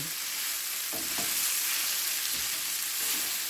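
Hashbrowns fry in bacon grease for a breakfast casserole, a steady loud sizzle with a few soft scraping stirs in the pan.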